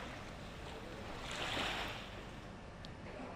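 Rough sea surf churning along the Kanyakumari coast during a storm warning, a steady broadband wash of breaking waves that swells to a louder surge midway, with wind noise over the microphone and no voices.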